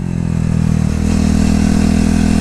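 KTM RC 390 sport motorcycle at full throttle on a race track, a loud steady high-revving engine drone that holds strong and even throughout, close and unbroken, with no talk over it.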